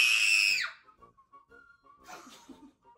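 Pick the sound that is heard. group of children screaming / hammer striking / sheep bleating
group of children screaming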